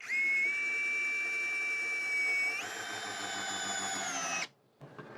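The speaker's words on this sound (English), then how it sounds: "But now let's try it with our installation driver in the 90-degree attachment." A Hyper Tough Gen 2 4-in-1 installation driver, model CD0801, fitted with a 90-degree attachment drives in a screw: a loud, steady motor whine steps up in pitch partway through, then cuts off abruptly.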